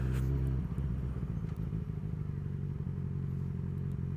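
A motorcycle rolls along off the throttle, its engine a low, steady idle-like rumble after a brief louder burst at the start, fairly close with no talking.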